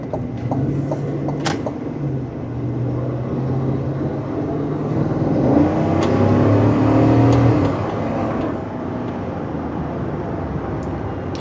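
A 2021 GMC Yukon Denali accelerates and shifts, its engine droning steadily with a rising tone near mid-clip before easing back, heard from inside the cabin with no talking.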